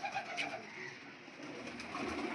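Soft coos of domestic pigeons, including a female bred for breeding, repeat through the scene, layered over a steady background hum with no talking.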